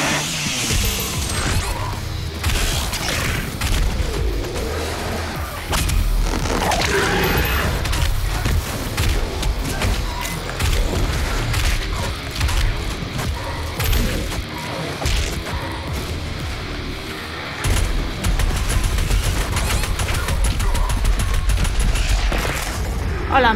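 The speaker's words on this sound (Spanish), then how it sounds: "Es hora de sacar la ametralladora." Rapid machine gun fire in the shooter DOOM Eternal rattles almost continuously amid explosions, crashes and mechanical clanks, loud and dense, with chaotic battle noise throughout.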